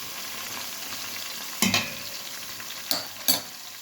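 Sheep tail fat renders in a pan with a soft, continuous sizzle, and three sharp scraping clinks of a utensil stirring the pan break in near the end.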